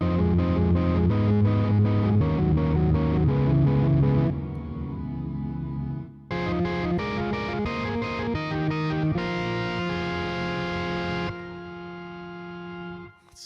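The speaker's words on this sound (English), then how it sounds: "And this one is just a reverse reverb." Sustained organ chords from a Yamaha YC61 stage keyboard swell and cut off, heavily processed with a reverse reverb that makes each chord fade in before it sounds.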